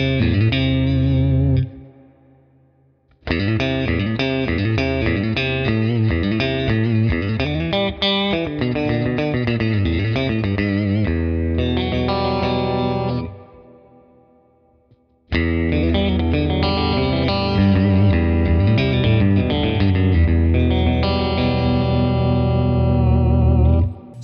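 An electric guitar runs through the Tone King Imperial MKII amp plugin from Neural DSP with high-frequency compensation, playing chordal phrases with chorus-like shimmer and light grit, two short pauses breaking the playing.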